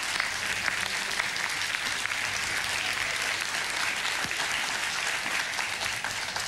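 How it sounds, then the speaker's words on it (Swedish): Studio audience at a game show giving warm, sustained applause, a dense even roar of many hands clapping at steady loudness throughout. "du får en fantastiskt värmande applåd av studiopubliken"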